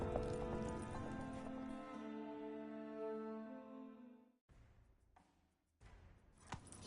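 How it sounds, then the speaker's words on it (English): A horse gallops in the video game The Witcher 3, with rapid hoofbeats over a sustained musical score that cuts out abruptly partway through, leaving faint scattered clip-clops. "Grab a horse, we'll chase him down."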